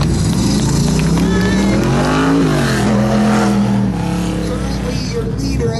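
A chopped, channeled and sectioned 1947 Chevy truck with a cammed 305 small-block Chevrolet V8, T5 gearbox and S10 chassis revs loudly at an autocross, its engine pitch rising and falling under a commentator's voice.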